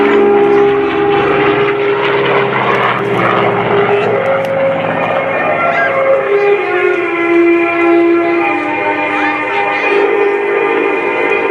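Propeller drone of an F4U Corsair performing a slow aileron roll at an airshow, a steady, loud engine hum with shifting harmonic tones that rise and fall throughout.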